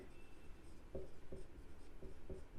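A pen scratches a closing-stock entry into an accounting book by hand. The faint, quiet strokes and short scratches come in small bursts over a low background hiss, and no one speaks.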